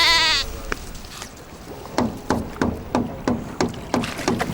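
Sheep bleating out in the middle of a remote desert, a run of short repeated calls at a steady rhythm, fairly close and clear over a quiet background.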